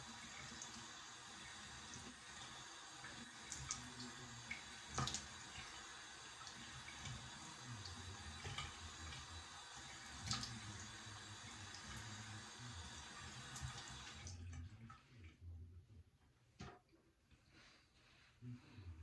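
Cool tap water runs steadily from a faucet while rinsing a razor blade shave, a broad continuous splash that cuts off near the end, leaving quieter drips and handling noises.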